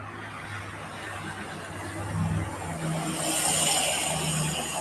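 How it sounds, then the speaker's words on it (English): Live street traffic in the city of Batavia on a Sunday morning in December, with cars and trucks rumbling steadily and a passing vehicle swelling louder toward the end, faint voices murmuring in the background. "Live traffic from the city of Batavia on this Sunday"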